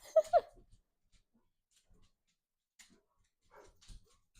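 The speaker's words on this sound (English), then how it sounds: "The dogs are barking outside." Two quick barks come from dogs outside, faint and distant, at the start, then quiet follows with only a few small scattered noises.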